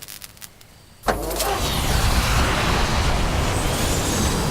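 Engine of the car in the Back to the Future video game fires up after a second of near silence, then settles into a loud, steady, close rumble that carries on alone to the end.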